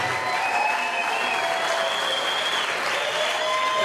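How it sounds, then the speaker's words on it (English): Steady, loud crowd applause fills an MMA cage event after a three-round professional women's bout, sustained clapping with some cheering throughout and no pauses. "let's have a big round of applause for both of the fighters"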